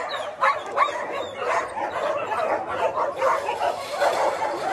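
Stray dogs at a mountain shelter housing more than 260 dogs bark and yip in a continuous overlapping chorus, moderately near, with occasional whimpers.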